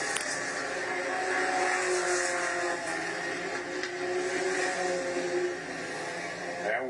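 Allison Legacy race cars with 4-cylinder Ford engines racing at Florence Speedway, a continuous loud buzzing engine drone with shifting pitch as cars circle the track, while a commentator talks over it.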